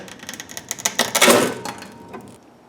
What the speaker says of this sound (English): So I'm gonna cut the hose around here.